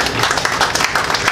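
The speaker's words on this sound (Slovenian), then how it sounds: "tako da en aplavz bi prosil." Audience applause at the opening of the first Art Expo in Slovenia, a dense, steady burst of many hands clapping at close range.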